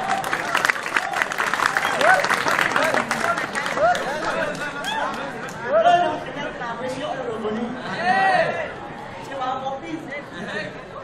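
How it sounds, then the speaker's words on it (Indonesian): Audience applause at a Balinese Calonarang dance-drama performance, with clapping strongest early on, then blending into steady crowd chatter and voices talking over it. "Tepuk tangan untuk kalian"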